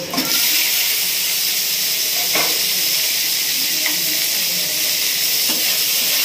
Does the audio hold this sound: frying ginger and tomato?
yes